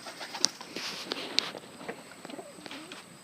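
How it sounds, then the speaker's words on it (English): Portuguese tumbler pigeons in a loft give soft, intermittent coos amid light rustling and a couple of sharp clicks, fairly close and without talk. "She's a nice bird."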